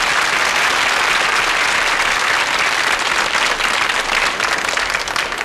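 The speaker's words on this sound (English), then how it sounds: "Give him a nice round of applause, ladies and gentlemen." Thunderous studio audience applause on a 1968 British television talent show, a dense, unbroken roar of clapping filling the room throughout.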